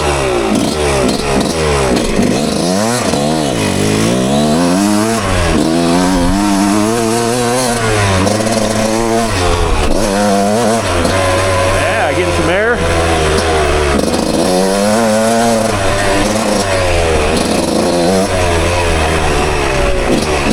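A 1996 Suzuki RM125 two-stroke motocross bike rides wooded trails, its snappy engine rising and falling through constant revving and throttle blips, loud and close throughout.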